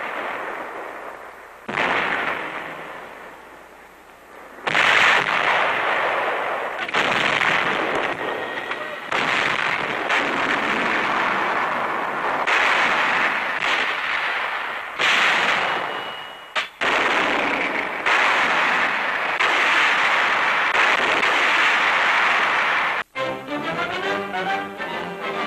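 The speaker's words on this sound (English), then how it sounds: "the officers arrive at their advanced positions just as artillery opens fire" Wartime newsreel soundtrack of 105 and 155 millimeter howitzers firing on Guadalcanal, with heavy repeated blasts and rumbling bursts at loud, uneven intervals, partly under a narrator's voice.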